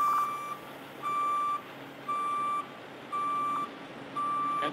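An RV motor coach backing up sounds a reversing alarm, five evenly spaced electronic beeps about a second apart, clear and steady over quiet engine hum with no talk.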